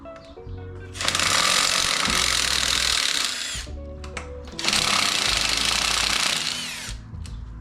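A power tool, likely an impact-style driver, removes bolts from a motorcycle in two long, loud sustained bursts separated by a short pause, with no talking.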